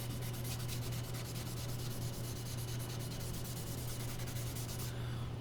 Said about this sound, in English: Come back to the figured piece, rub that in again.